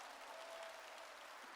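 Faint, steady applause from a church congregation during a Korean Protestant sermon, a soft continuous patter of many hands clapping at a distance.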